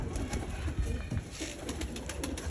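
Pigeons at a rooftop loft, heard as soft cooing and scattered bird calls with faint rustling throughout, fairly close and steady, with no talking.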